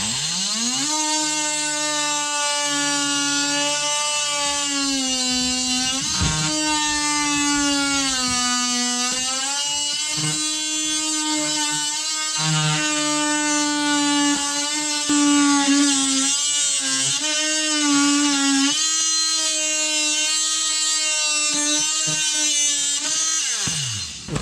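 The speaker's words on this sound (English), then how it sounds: "I'll use my skill saw and rip the rest of it" A circular saw rips through a laminate flooring plank during a single-board repair, its loud, steady motor whine continuing for the whole span and sagging slightly in pitch as the blade loads up in the cut.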